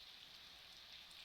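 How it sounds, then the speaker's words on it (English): Rain falls steadily in the background, a very faint, even hiss of drops with no other sounds and no speech. "And if you can hear the rain in the background,"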